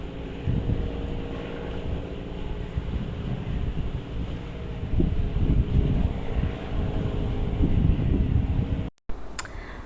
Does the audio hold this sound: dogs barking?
no